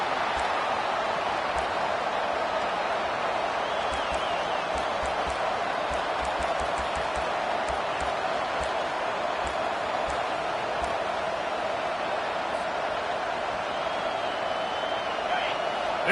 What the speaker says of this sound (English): This crowd even louder now on second down as they try to hold on